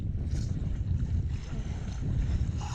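A sailboat moves at about 6.5 knots in the Kattegat, with a steady low rush of water and wind noise buffeting the microphone and no voices.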